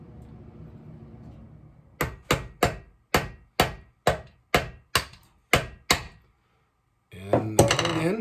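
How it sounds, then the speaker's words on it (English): Sharp hammer taps drive an oil seal into the flywheel-side engine case of a Pioneer P60, about ten evenly spaced close strikes, then a brief silence and some clattering handling noise. "I'm going to start tapping this in."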